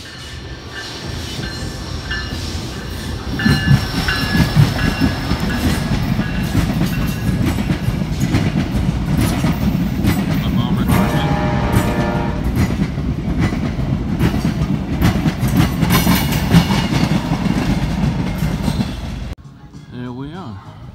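A train passes close by near the waterfront by the Narrows Bridge. It gives a loud, sustained rumble with clickety-clack wheel rhythm and faint squeals, then drops away suddenly at the end.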